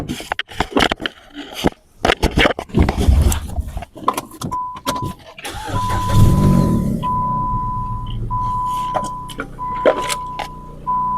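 A Dodge Avenger, long abandoned, being started: clunks and scrapes, then an engine catching and settling into a loud, steady idle close by.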